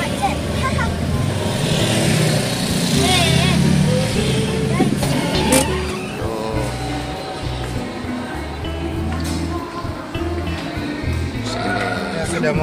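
Slow city traffic in Makassar rumbles close by, with car and truck engines idling and creeping forward under steady chatter from people inside a vehicle.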